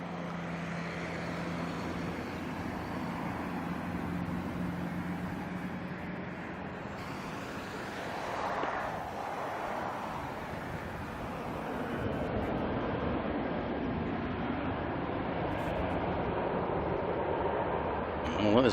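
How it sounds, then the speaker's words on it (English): A Qantas Airbus A330 at Auckland Airport produces a broad jet roar that builds steadily louder in the second half, heard at a distance under an outdoor spotter's talk. "there's a Qantas 330"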